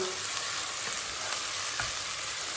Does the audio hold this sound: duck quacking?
no